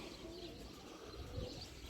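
Racing pigeons arrive at the loft after a 22 km flight into the wind, soft low cooing and faint bird sounds against quiet outdoor background, distant and faint.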